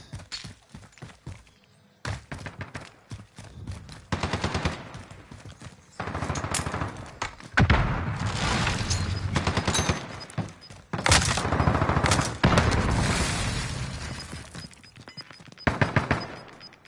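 Bursts of automatic and single gunfire from Call of Duty Warzone on the Caldera map, dense volleys repeating loudly through the whole stretch with short gaps between exchanges and occasional thuds.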